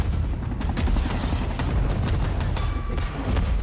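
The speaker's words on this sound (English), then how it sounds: "When the helicopter explodes, the trees blow." Dense, booming blasts and rapid crackling gunfire pile up continuously, a loud, rumbling wall of explosions from a video game battle.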